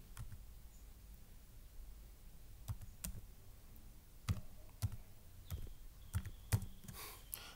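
Sparse, quiet clicks of typing on a computer keyboard, single keystrokes spaced irregularly with a few tighter clusters toward the end, no talk.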